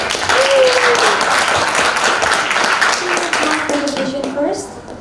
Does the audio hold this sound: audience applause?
yes